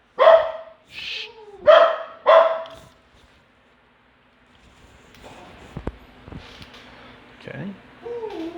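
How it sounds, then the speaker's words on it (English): A dog barks three times in quick succession close by, then things go quiet before a person speaks softly and handles objects indoors. "Okay, dog's barking at me."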